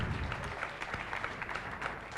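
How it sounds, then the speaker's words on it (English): Steady applause from a sizable conference audience at a panel discussion, a dense wash of clapping that holds evenly throughout with no voices standing out. "A big round of applause for him, please."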